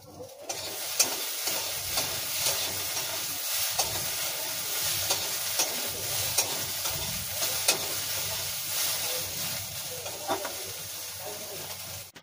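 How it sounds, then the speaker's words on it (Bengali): Okra sizzles and hisses in hot oil, with periodic scraping and stirring clicks from a utensil against the pan. "দেখো ঢেঁড়স ভাজাটা করে নিয়েছি, আর ঢেঁড়স ভাজাটাকে নামিয়ে নিচ্ছি।"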